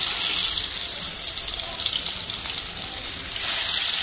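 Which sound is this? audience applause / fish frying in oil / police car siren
fish frying in oil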